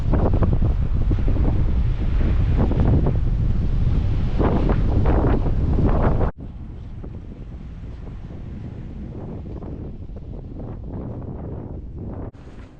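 Strong wind on the Pacific Northwest ocean coast buffets the microphone with loud, rough roaring, then drops abruptly to a softer but still steady gusting rush.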